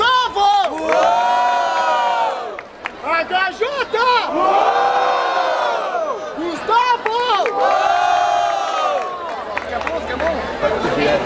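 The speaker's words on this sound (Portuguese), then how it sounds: "Barulho para as rimas do HJ" A crowd at a Brazilian freestyle rap battle, the 134th Batalha da Aldeia in Barueri, São Paulo, cheers and shouts loudly and continuously in surging waves, with whoops and yells throughout.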